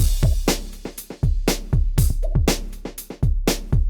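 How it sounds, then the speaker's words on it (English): A Way Hip drum kit from a Roland XV-5080 rompler plays a punchy breakbeat, deep kicks and crisp snares with hi-hats in a steady syncopated groove, loud and close with no voices. "Firstly, the Way Hip kit that sounds like this."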